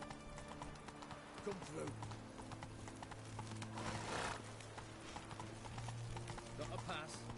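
Roach the horse trotting in The Witcher 3 on PS4, a steady run of rhythmic hoof clip-clops under game ambience, with character voices talking over it.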